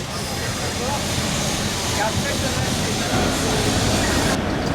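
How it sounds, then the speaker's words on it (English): Lisbon's tram number 28 rumbles past nearby, a steady broadband rolling noise with a faint squeal, while people talk over it. "The famous tram number 28."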